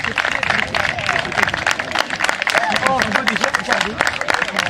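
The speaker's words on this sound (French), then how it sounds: "On va applaudir bien fort" Crowd applause at a youth U11 football tournament awards ceremony as a trophy goes to the winning boys' team, brisk dense clapping mixed with cheering and chatter, with an announcer talking over it.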